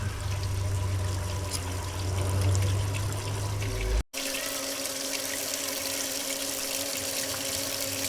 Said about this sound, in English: I'm gonna have to drain this fuel rail again